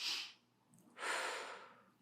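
Short fast breathing shown as a panic attack technique: a sharp nasal inhale, a pause, then a longer forceful breath out, close and with no talking.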